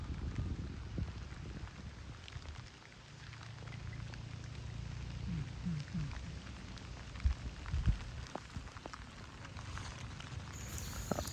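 Monsoon rain falls on a trek to a Sahyadri fort in mist, a steady soft patter with scattered heavier drops and a few footsteps, fairly faint throughout.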